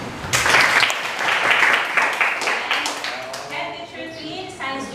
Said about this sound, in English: Let us welcome a round of applause our English Department Head, Ma'am Shirley and Baluyos.